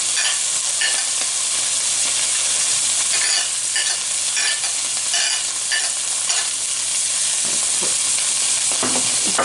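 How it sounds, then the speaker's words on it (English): Onions, celery and garlic fry in a pan with a loud, constant sizzle while a utensil stirs and scrapes through them in irregular bursts, with no voices. "add in my onions, celery, and my garlic"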